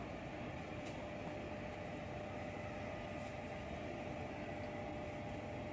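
Prawn paturi wrapped in bottle gourd leaves frying in mustard oil in a pan over low heat, giving a steady, even hiss that holds unbroken throughout, with no voices.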